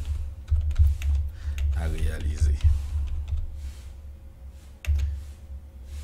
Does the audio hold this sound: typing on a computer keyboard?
yes